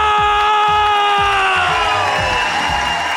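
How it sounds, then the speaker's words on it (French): A comedy club crowd at a cabaret cheers, whoops and claps loudly for a comedian coming on stage, a dense continuous roar with shouts rising over the applause. "Un tonnerre d'applaudissements pour mon ami Charles-Antoine Desgrands!"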